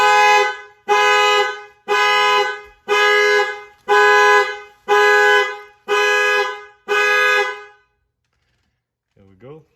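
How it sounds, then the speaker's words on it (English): A C6 Corvette's alarm blaring during a door actuator repair: eight evenly spaced loud horn honks about one second apart, close by, then silence and a brief voice. "Nice alarm system, at least it works."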